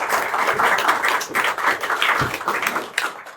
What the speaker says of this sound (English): We should give them a round of applause for co-hosting this event.